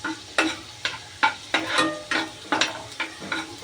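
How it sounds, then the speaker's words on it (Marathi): Mustard seeds, cumin and a little turmeric hit reddened garlic in hot oil, with rhythmic stirring scrapes every half second over a soft sizzle, close and without talk. "लसूण आपला लालसर झालेला आहे त्यात लगेच मोहरी जिरे आणि थोडीशी हळद टाकायची"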